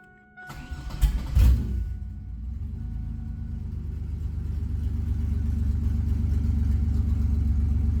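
A drift project car's engine cranks briefly and catches, then settles into a steady low idle rumble that grows slightly louder; no voices.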